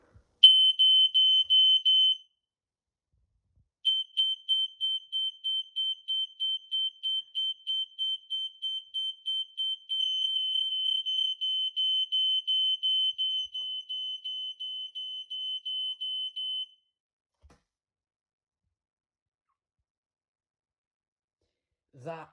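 An Ei 166RF smoke detector on a Radiolink base sounds its alarm: a piercing, loud, high-pitched tone, first held for a couple of seconds, then a long run of rapid steady pulses lasting about thirteen seconds before stopping.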